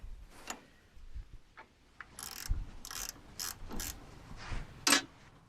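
A 9/16 wrench loosens locking nuts on an Oliver tractor backhoe, giving several short, sharp metallic clicks and scrapes spaced irregularly, close by with no talk.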